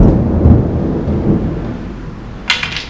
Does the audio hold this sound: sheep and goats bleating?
no